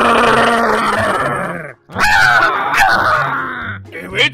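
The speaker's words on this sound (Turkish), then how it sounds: "Köpek dövüşleri başlıyor." Dogs fighting in Minecraft, with continuous loud grunting, growling and yelping game sounds layered over each other, a brief pause midway, then more rough snarling bursts.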